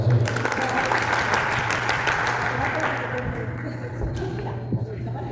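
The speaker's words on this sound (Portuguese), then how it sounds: "Uma salva de palmas para a Suzana, gente." An audience at a business networking event gives a loud burst of applause that gradually fades, with a person speaking over and after the clapping.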